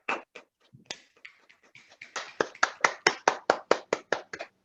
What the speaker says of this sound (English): if everyone would please unmute yourselves for a round of applause